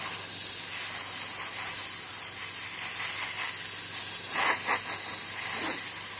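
An airbrush sprays paint onto models at low pressure, giving a steady soft hiss throughout with a few brief stronger puffs near the end, close and even.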